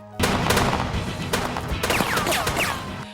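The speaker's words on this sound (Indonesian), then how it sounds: "Ami berhasil menembaki salah satu ninja super, namun ternyata mereka memakai rompi anti peluru" Heavy automatic gunfire rips through a film fight scene against ninjas, loud and sustained, with clustered bursts and ricochet-like whines layered over the continuous shooting.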